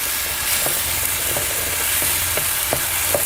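Paneer masala sautéing in a pan, a steady loud sizzle of frying throughout with a few faint stirring knocks spaced at regular intervals, close up and without talk.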